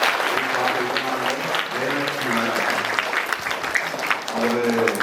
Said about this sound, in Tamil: தலைமை ஆசிரியர் அவர்களுக்கு எல்லாம் கைத்தட்டி நன்றி சொல்லுவோம்